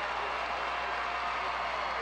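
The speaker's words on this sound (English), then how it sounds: "The crowd getting a little bit of reaction to that score" Crowd at a 2004 SEC Championships gymnastics meet applauding a score, a dense, even wash of clapping and cheering that holds steady throughout.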